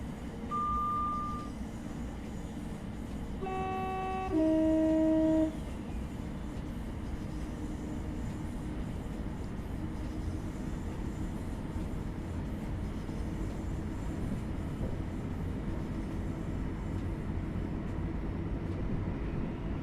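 Class 700 electric multiple unit running through a yard in Train Sim World 3, a steady mid-level rolling rumble with a few brief electronic tones near the start, then a continuous drone.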